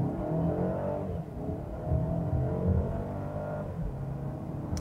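A 2019 Mercedes-Benz A220 base engine pulls hard under full throttle, a steady low drone rising through the revs and easing briefly mid-run before climbing again, heard from inside the car with no talking.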